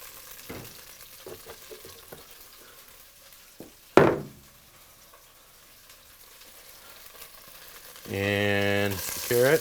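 Oil hits a pan with browned stew meat just removed, a sharp loud burst of sizzle that fades quickly, followed near the end by a louder, steady frying hiss over quiet kitchen handling noises.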